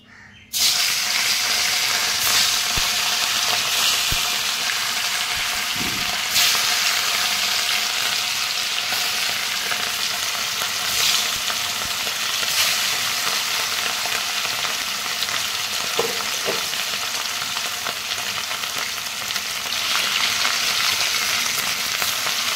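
Rohu fish pieces fry in hot mustard oil in a heated wok, giving a loud, dense, continuous sizzle that holds steady for the whole stretch with no voices.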